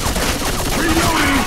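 Gunfire in the Left 4 Dead 2 video game on Xbox 360: a dense, continuous burst of rapid shots, loud and close, with voices shouting faintly underneath.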